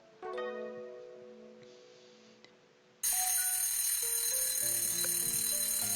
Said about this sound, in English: I can hear the alarm clock. I reach out to stop the alarm.